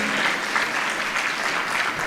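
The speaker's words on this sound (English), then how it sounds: "can we just give a round of applause" Audience applause at the Kenya National Research Festival, a steady dense wash of many hands clapping that stays loud and even for the whole stretch, with no voices rising above it.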